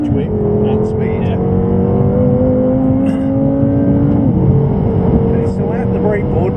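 A BMW M6 pulls hard around the Goodwood circuit, its engine note loud and close, rising steadily through a gear before a shift, while an instructor talks over the constant roar.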